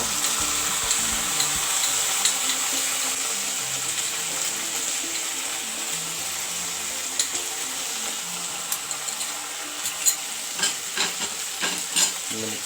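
Sauce mix is stirred into tuna chilli frying in a pan, a loud, continuous close sizzle with sharp scraping and clicking stirring strokes growing more frequent toward the end.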